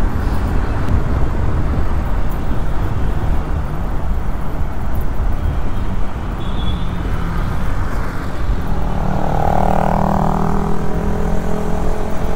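Bajaj Pulsar NS 160 motorcycle cruising fast on the NH48 highway from Mumbai toward Vapi, Gujarat, a steady loud rush of engine drone and wind roar that holds throughout with passing traffic noise.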